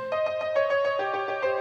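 An FL Studio beat melody, a short bright synth line of plucked notes over a low G bass note, plays briefly and moderately loud with no voices.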